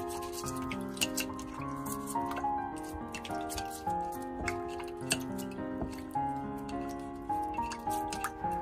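Broken-apart pieces of fresh ginger are rinsed in a bowl of water, giving soft, irregular drips and splashes that sit under steady background music.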